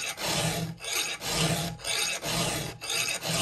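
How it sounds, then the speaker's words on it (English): A hand file rasps across a chainsaw tooth on a Husky 2101, sounding as steady, even back-and-forth strokes, about five or six of them, close and fairly loud with no talking. "It's about getting the tooth filed."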